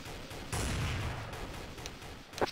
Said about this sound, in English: I'm being shot at right now.